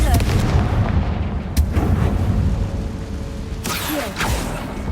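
Hogwarts Legacy's Confringo fire spell goes off in a string of booming blasts and crackling bursts, heavy and loud over a rumbling backdrop, with a voice briefly heard.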